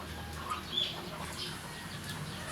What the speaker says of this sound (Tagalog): So hindi po maiwasan sa manok ang nag-aaway sila, minsan nagtutukaan lalo sa pagkain.